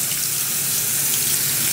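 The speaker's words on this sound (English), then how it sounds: "I put those both in the strainer, and so I rinse off, get all the black bean gunk off of there." Black beans being rinsed in a strainer under a running tap, a steady, close, continuous splash of water through the mesh with no speech.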